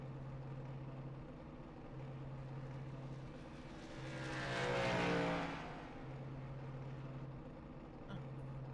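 A race car at Talladega Superspeedway, doing donuts after an ARCA race, swells from a distant engine drone to a louder roaring pass in the middle before fading back, heard far off over a steady background hum.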